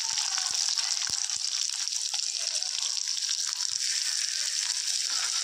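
Finely chopped small onions hit hot oil with fennel seeds while cooking a poori masala. They make a continuous hissing sizzle with a few scattered low pops and crackles, steady and close throughout.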